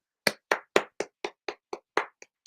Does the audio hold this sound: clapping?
yes